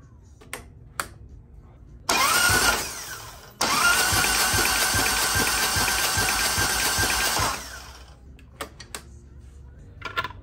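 A 2007 Harley-Davidson Ultra Classic fitted with a Screaming Eagle cam cranks over on the starter without firing, with spark plugs out, to build oil pressure. Two loud, steady whirring bursts, the second running several seconds, are set between quiet clicks and shop sounds.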